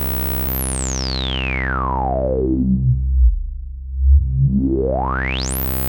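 A bright, resonant sweep comes from an Oberheim SEM synthesizer filter with its resonance turned fully up. It glides down into a deep, throbbing low tone and then climbs back up to a whistling peak, alone and loud.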